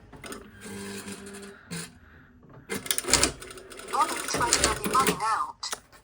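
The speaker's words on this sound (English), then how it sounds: "There's my sewing machine talking to us again." A sewing machine whirs and clatters in short bursts that stop and start, with tonal, voice-like sounds at the beginning.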